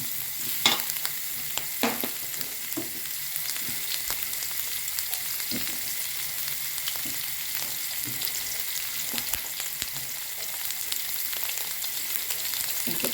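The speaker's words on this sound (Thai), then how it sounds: "ติผัดพริกไปหน่อยให้หอมกะติ" Chili paste stir-frying in hot oil for a coconut-milk pork and sweet potato curry, a steady close sizzle with scattered scraping stirs and small pops throughout, no talking.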